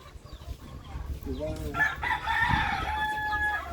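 A rooster crows loudly near chicken coops on an island in Cebu, a long drawn-out call over low outdoor rumble, with other fowl faintly clucking beforehand.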